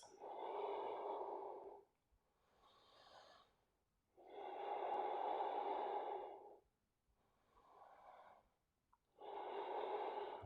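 Deep, slow yoga breaths held in a warrior-style standing pose, close and loud: three long breathing cycles alternating strong, rushing exhales with softer inhales, steady rhythm and no talking.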